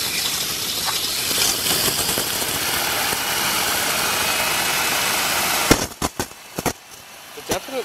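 A 3D printed Pelton water turbine fed by a hose gives a loud, steady whooshing whir for most of the stretch, then cuts out, leaving a few sharp knocks and clicks close by.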